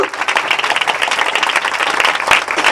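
A crowd at a Christian gathering in Santinagar, Gunpur, Rayagada bursts into loud, dense applause, many hands clapping together in a continuous close roar of claps.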